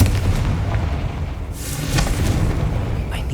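A Confringo blasting spell goes off in Hogwarts Legacy, a dull rumbling boom with a sharp burst near the middle over a continuous low game backdrop, fairly loud and close.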